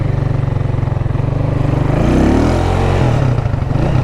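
A motorcycle engine close by, pulsing at a steady idle-like chug, then revving up and dropping back as the gears change, loud and alone with no talk.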